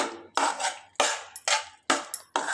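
A metal spoon scrapes and clanks against a kadai while stirring mango thokku, in about six sharp, close scraping strokes separated by short pauses.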